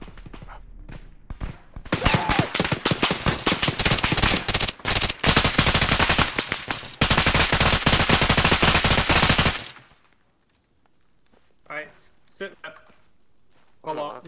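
Dense, loud bursts of automatic gunfire crackle almost continuously during a Halloween-themed military operation in the video game Arma 3, then cut off abruptly, leaving quieter talk.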